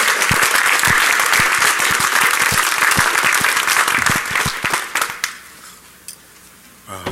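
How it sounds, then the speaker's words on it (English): Loud applause from a DEF CON conference audience, thick and sustained clapping that thins out and trails off into scattered claps near the end. "so we'll all give them a round of applause ourselves"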